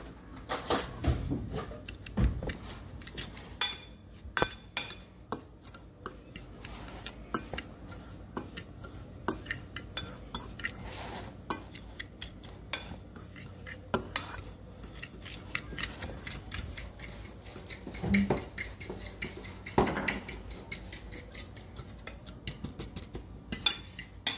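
A fork tosses dry seasoning ingredients for smoked baby back ribs in a mixing bowl, making quiet, scattered clinks and scrapes that keep up unevenly throughout, with no talking.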